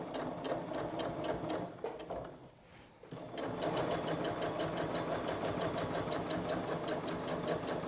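A sewing machine stitches a zip seam, a fast, steady mechanical chatter that briefly slows and pauses around a back stitch, then resumes at full rhythmic pace, close and clear with no talk.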